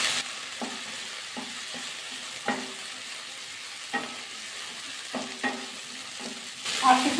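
Vegetables, including Malabar spinach, sizzle steadily in a frying pan while a spatula stirs and scrapes them in regular taps every second or so, rising to a brighter sizzle at the close.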